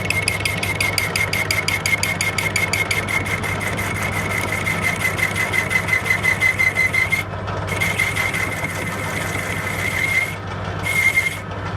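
A lathe chuck spins a motorcycle fork part for a Deckson Eagle / Fuji 480 rebuild, giving a steady mechanical hum with a high whining tone and a rattling texture that drops out briefly twice near the end.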